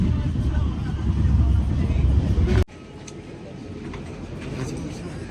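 Deep rumbling of a moving train, loud and continuous, then a sudden drop to a softer, steady rumble with voices.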